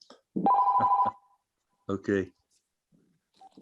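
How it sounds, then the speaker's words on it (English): A telephone gives a single loud electronic ring lasting about half a second in a quiet meeting room, and a person then speaks briefly. "Sorry for the phone."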